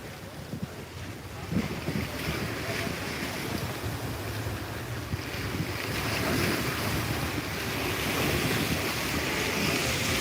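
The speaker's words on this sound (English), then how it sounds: "we are getting some massive water from the wake" Massive wake water from a large cruise ship leaving the Port of Miami, a loud, continuous rush and churn of surf mixed with heavy wind buffeting the microphone, growing stronger over ten seconds with no talking.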